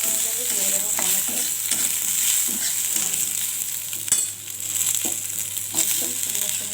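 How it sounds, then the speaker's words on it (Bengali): Fish and onions frying in mustard oil in a pan, a constant crackling sizzle with occasional stirring scrapes and one sharp knock of a utensil, close and without speech. "পেঁয়াজটা ভাজা ভাজা হয়ে যাবে"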